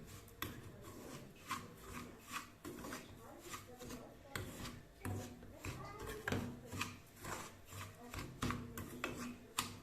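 Semolina with sugar being stirred and roasted in a small wok, giving repeated scraping and rubbing strokes in an uneven rhythm, close but fairly soft.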